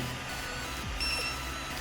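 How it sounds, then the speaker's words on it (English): A short electronic beep from an Ender 3 V2 3D printer, a single steady tone that rings briefly over a low mechanical hum, confirming settings are stored. "You will hear a beep, which means your settings has been stored."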